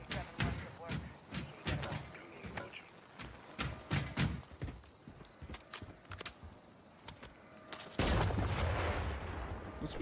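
Enemy gunfire in a Call of Duty MW3 campaign mission at Gora Dam, repeated sharp cracks and bursts of shots at varying distances, followed by a louder sustained noisy stretch near the end.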